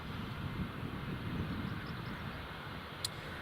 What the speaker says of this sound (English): that's the Ryanair down from Palma de Mallorca